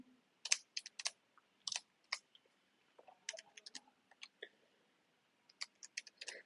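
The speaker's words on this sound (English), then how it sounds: "You can type it on the calc, you get an answer." Quiet, dry button taps on a calculator come in quick irregular clusters with short pauses between them as numbers are keyed in, close by and with no talking.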